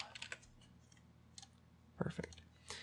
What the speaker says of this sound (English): hit return on the keyboard, and type